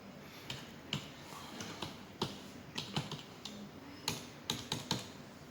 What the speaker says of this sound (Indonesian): Seperti biasa, kita ketik admin.